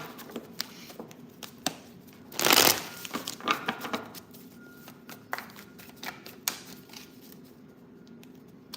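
Oracle cards being shuffled by hand during a live tarot reading: soft, close riffling with one louder flurry of shuffling and scattered light taps around it.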